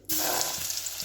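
Marinated chicken pieces hit a hot pan and burst into a loud, sudden sizzle that starts abruptly and hisses on steadily, close up with no talking.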